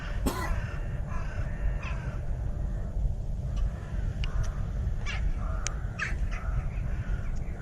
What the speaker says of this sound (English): Crows and wind.